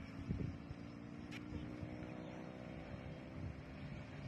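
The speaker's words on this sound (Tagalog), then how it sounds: "Yan yung mga motor." Motorcycle engines on a curving mountain road at Mines View in Bukidnon, a steady droning hum with wind noise, running continuously and moderately close.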